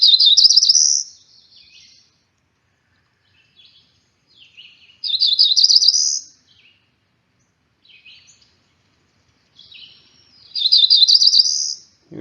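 A cerulean warbler sings three separate buzzy, rising phrases, each about a second long and spaced several seconds apart. The phrases are clear and fairly close, with no talking.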